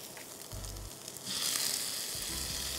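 Ginger garlic paste sautés with whole garam masala spices over softened onions in a pan, giving a quiet, steady sizzle that swells slightly louder partway through.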